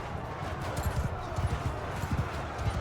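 Rapid, close horse hoofbeats pound in an irregular gallop during a Mount & Blade II: Bannerlord battle, dense and loud for about three seconds.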